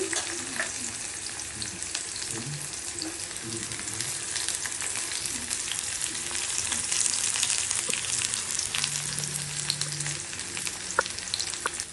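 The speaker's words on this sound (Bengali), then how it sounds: "রসুন পেঁয়াজ ভাজা ভাজা হয়ে গেছে।" Onion, dried chilli and garlic frying in a pan, a dense, steady sizzle heard up close with occasional stirring clinks throughout.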